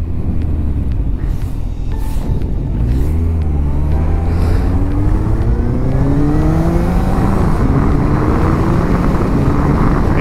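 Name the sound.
Suzuki Bandit motorcycle riding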